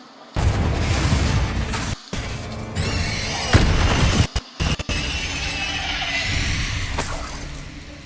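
The Confringo explosive fire spell is cast in Hogwarts Legacy, a booming blast with crackling, shattering debris that rings on for several seconds, loud and close, broken by brief silent gaps.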